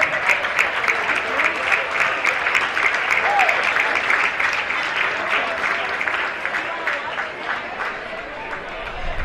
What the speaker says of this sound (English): Give these guys a round of applause, they busted their butt.